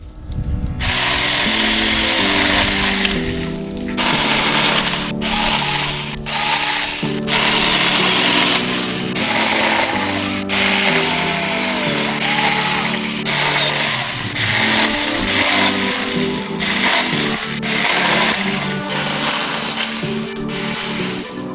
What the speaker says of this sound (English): maybe now we can get back to using this chainsaw.